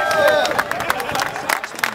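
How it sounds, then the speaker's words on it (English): Audience at a bluegrass and beer event at Whole Foods clapping for the store staff, scattered applause and crowd chatter at moderate distance, with a voice speaking over it. "give Rick and all these guys from Whole Foods a round of applause real quick"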